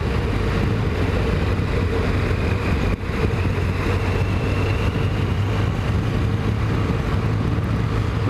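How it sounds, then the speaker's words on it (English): A Kawasaki ZX10 motorcycle runs steadily on a shakedown ride after restoration, a constant engine drone heard from the moving bike under heavy wind rush, with no voices. "As far as this little shakedown test is concerned, I think the bike is running absolutely superb."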